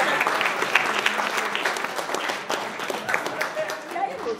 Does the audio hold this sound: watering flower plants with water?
no